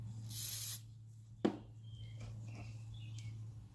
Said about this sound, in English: I'm going to spray some silicone in my hand.